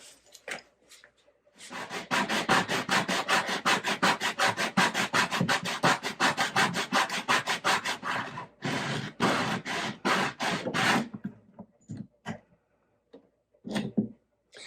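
Bone bridge for a 1953 Gibson L-50 archtop guitar sanded flat by hand, a long run of quick rhythmic rasping back-and-forth strokes close up, then scattered shorter strokes and taps.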